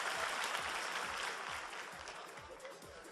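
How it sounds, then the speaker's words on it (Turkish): Audience clapping steadily at a cosplay contest in a League of Legends 2014 winter final, a dense, even applause that fades slightly toward the end, heard fairly faintly with no voice on top. "Alkışlarınızla uğurluyoruz"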